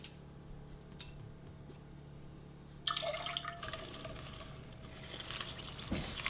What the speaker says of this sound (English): And I'm gonna add the water to this Dutch oven.